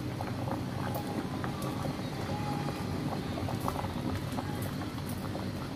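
Sago simmers in a pot of ginataan with landang, giving a dense, steady roar of rolling bubbles that fills the whole stretch, loud and close without letup and with no voices.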